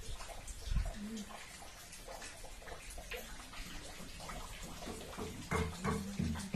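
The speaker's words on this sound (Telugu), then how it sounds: "రేకుల నీళ్లు దుంకుతున్నాయి కింద." Rainwater pouring and dripping down off tin roof sheets during a steady drizzle, a constant splashing wash close by with scattered louder knocks.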